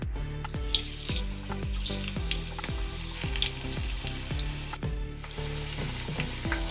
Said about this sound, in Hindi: अब इसे मीडियम टू हाई फ्लेम पे क्रिस्पी होने तक अच्छे से तल लें।